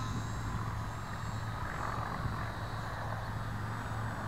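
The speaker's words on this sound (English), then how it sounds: "this is a fun little plane. It's really flies well, and it's just so maneuverable." An E-flite UMX Yak RC model airplane flying at low throttle, a steady buzzing electric motor and propeller whine held at an even level throughout, fairly close and alone.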